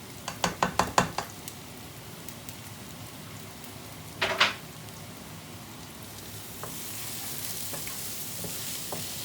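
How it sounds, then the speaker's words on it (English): Chopped curry ingredients for a prawn and egg curry frying in a pan: a rapid cluster of sharp stirring clatters, a second burst a few seconds later, then a steady rain-like sizzle that grows a little louder. "I've got to fry it all now till it's dark brown"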